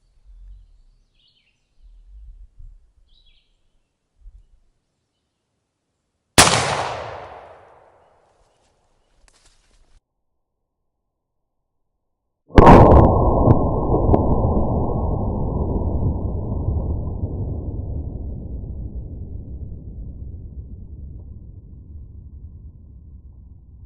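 Two sharp, loud shots from a Thompson Center .56 caliber smooth bore muzzleloader loaded with a one-ounce shot charge and musket cap, fired outdoors: a cracking blast, several seconds of silence, then a second boom whose long rumbling tail slowly fades.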